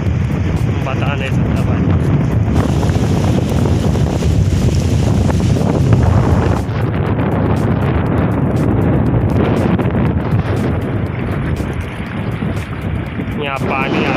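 Strong wind batters the microphone on the Alang ship-beaching shore, a constant heavy roar mixed with rushing water, while someone speaks briefly over it.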